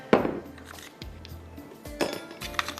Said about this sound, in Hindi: थोड़ी सी बर्फ़ भी डाल देते हैं ताकि ये थोड़ा ठंडा हो जाए यहाँ पर